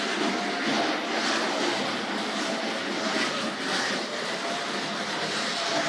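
A model train runs around a track at a train collectors' show, a steady whirring, rushing rumble that carries on evenly without breaks.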